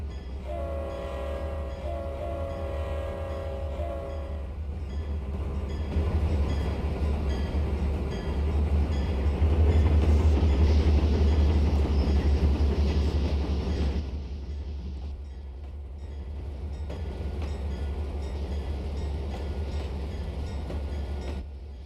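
A long freight train rolls slowly through a rail yard in the Trainz simulator, with a steady low rumble of wagons, a tonal horn in the opening seconds and a swelling, continuous roar midway before easing off.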